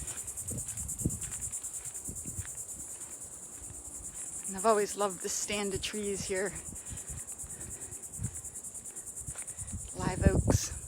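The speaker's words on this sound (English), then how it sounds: "Hear the cicadas." Cicadas in a stand of live oaks buzz continuously in a high, steady drone that fills the whole stretch, while someone talks nearby over the insects.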